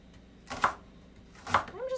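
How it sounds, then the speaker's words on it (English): Two distinct knife chops on a cutting board as vegetables are cut into chunky pieces, sharp and close, with a voice beginning to speak at the end. "I'm just going to cut everything a little bit chunky"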